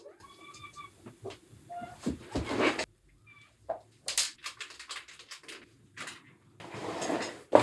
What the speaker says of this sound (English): Time to feed the cats.